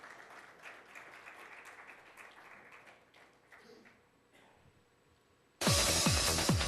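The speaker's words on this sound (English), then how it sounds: "a huge round of applause for sir." A crowd at a corporate awards ceremony bursts into loud applause for the chief guest near the end, following a stretch of quieter murmuring and scattered background noise.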